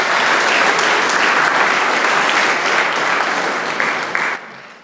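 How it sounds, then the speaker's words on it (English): A large concert audience applauds loudly in a dense, sustained roar of many clapping hands that holds for several seconds and then drops away quickly at the end. "another round of applause for them for pulling that off"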